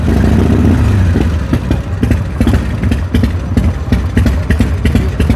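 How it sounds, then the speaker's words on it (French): Harley-Davidson motorcycle idling close by at a flea market, its loose, lumpy potato-potato beat loud and steady throughout, with no talk over it. "je m'arrête 2 secondes parce que je trouve que j'adore le ralenti de la Harley"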